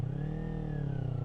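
A motorcycle engine on a test ride holds a steady, close rumble with a faint whine that rises slightly and then eases back, with no voices over it.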